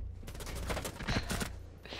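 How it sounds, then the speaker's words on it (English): A rapid, continuous burst of gunfire from Rainbow Six Siege fired through a wall, dense and close, lasting about two seconds with no talk over it. "That wall bang though."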